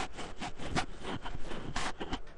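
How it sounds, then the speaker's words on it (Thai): A hand scratches and rubs directly on the microphone of a Neolution E-Sport Silencer gaming headset, giving close, uneven scraping bursts that run steadily for a couple of seconds with no talking. "เดี๋ยวผมจะลองทดสอบด้วยการเอามือขูดที่ไมค์ตัวนี้นะครับ"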